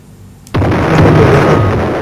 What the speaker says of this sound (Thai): แล้วก็วางระเบิดเลยครับ วางระเบิด